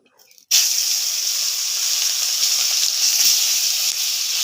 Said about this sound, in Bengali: তেলটা গরম হয়ে আসছে এখন আমি মাছগুলো দিয়ে দিচ্ছি